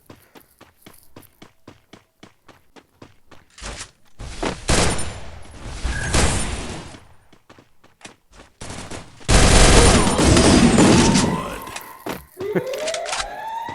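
Automatic gunfire spraying in the mobile shooter Free Fire: quick footsteps first, then two long, loud, dense bursts of rapid shots close by, with no talk.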